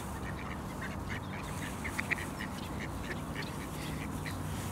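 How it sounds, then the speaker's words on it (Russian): Ducks on an island quack in scattered short calls while eating porridge, set against steady outdoor background noise. "Да нет, вон утки, видишь, тоже едят."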